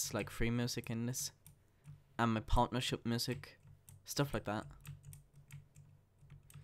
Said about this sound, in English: If you can hear my keyboard in the background